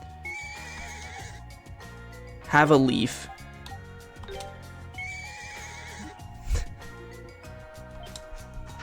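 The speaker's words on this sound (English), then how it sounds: "Hi, horse." A horse in the Ys Celceta video game neighs with a sharp, loud whinny amid game music and clip-clop hoofbeats, while a person talks nearby.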